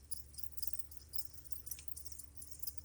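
Dense, steady high-pitched insect chirping from many crickets at once, a continuous shimmering trill with a low background hum beneath it.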